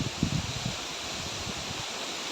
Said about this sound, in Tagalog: lakas oh wow lakas ng hangin grabe